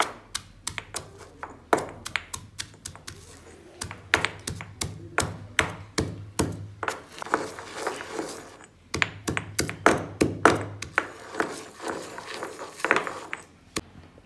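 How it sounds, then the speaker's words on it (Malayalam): Rapid bursts of hard tapping and knocking, clustered in uneven groups with short pauses, as fried prawns are ground in a small grinder. "വറുത്തെടുത്ത ചെമ്മീൻ നമുക്കൊന്ന് പൊടിച്ചെടുക്കാം"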